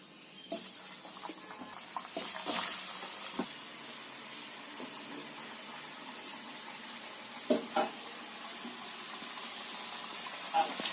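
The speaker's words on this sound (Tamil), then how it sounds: "ஆயில் சூடாயிருச்சு, உருளைக்கிழங்கு பொரிச்சு எடுத்துடலாம்." Potatoes deep-frying in hot oil for potato Manchurian: soft, steady sizzling with a faint hiss, broken by occasional clinks and stirring noises, heard close up with no voices.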